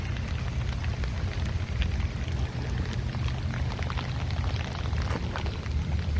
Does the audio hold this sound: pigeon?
no